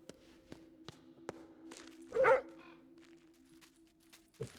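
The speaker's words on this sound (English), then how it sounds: "Why are you barking, Rudy?" A dog barks once, in a short, sharp burst heard fairly close, followed by a fainter yip, while sparse ticks and light steps sound over a low, steady tonal hum.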